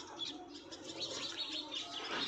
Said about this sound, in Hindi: और देखिए इधर चिड़ियों की आवाज़ आ रही है अगर आप सुन पा रहे होंगे तो।